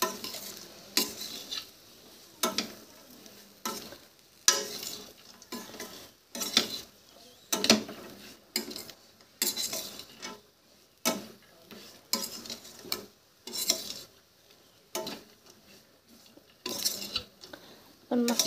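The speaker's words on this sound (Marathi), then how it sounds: "आता पुन्हा मिक्स करून घेऊया." A spoon scrapes and clanks against a pan while vaghati (ranmeva) vegetable bhaji is stirred, in sharp rhythmic bursts about once a second over a faint sizzle, close and loud.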